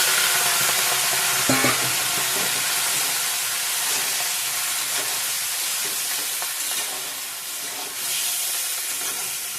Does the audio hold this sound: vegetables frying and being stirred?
yes